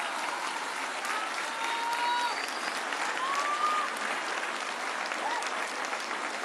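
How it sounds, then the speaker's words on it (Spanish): A large outdoor crowd at a public event in Ixtapaluca, State of Mexico, gives sustained applause for welfare workers, a dense, even roar of clapping with scattered cheers and a few whistles over it. "Hay que darles un aplauso a nuestros compañeros."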